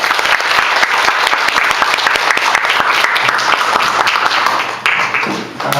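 A church congregation at a Sunday service bursts into loud, sustained applause welcoming a missionary to the front, the clapping thick and close throughout before thinning slightly near the end.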